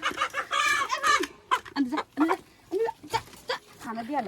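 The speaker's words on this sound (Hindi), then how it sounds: "ये है हमारी मुर्गी" Chickens clucking close by in short, repeated bursts, mixed with people talking over them, in a village setting.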